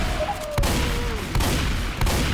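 Gunfire in the zombie shooter game Left 4 Dead 2: several sharp, separate shots ring out at uneven intervals over a busy game background.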